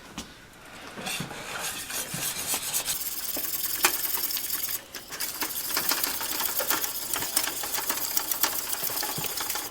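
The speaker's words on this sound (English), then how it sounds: "you want to whisk that?" Wire whisk rattling and scraping fast against a bowl while ingredients for a Mexican cheese sauce are mixed, a steady busy clatter close up with no talk.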